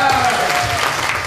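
A comedy club audience breaks into a short, steady burst of applause as a stand-up comedian is introduced, with clapping that is dense and fairly close throughout.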